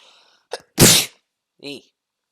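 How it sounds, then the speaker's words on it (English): A single loud, close sneeze, preceded by a quick sharp inhale and followed by a brief voiced sound. "Oh, I'm gonna sneeze."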